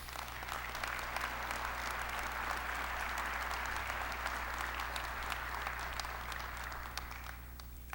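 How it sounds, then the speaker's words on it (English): A theatre audience at a 9/11 remembrance ceremony applauds steadily and loudly, a dense, sustained wash of clapping from a large crowd that holds for the whole stretch before easing slightly at the end. "Please give each other a round of applause."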